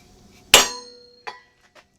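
One sharp, ringing metallic strike of a hammer on a center punch marking a drill point, followed by a lighter tap and faint clinks, close up.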